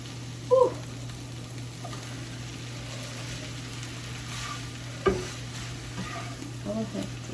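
Spicy noodles stirred in a hot pan with a steady low sizzle, broken by a couple of sharp utensil clanks near the start and middle and light scraping toward the end.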